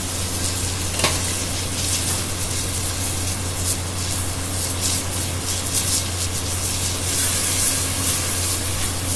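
Beef steaks sear in a hot pan with a loud, continuous sizzle and crackle, steady and close for several seconds with no talking over it.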